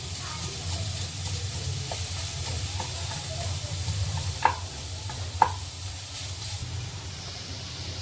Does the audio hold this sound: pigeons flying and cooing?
no